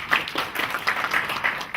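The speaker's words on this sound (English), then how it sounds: "Mr. Njuguna. Let's clap for him, please." Brief clapping from an audience at the launch of a countywide inclusive sanitation strategy in Nakuru, a patter of claps lasting under two seconds with no voices over it.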